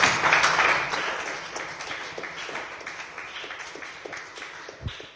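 A church congregation claps and cheers together during a sermon, a burst of applause that is loud at first and then gradually fades, with scattered claps continuing to the end.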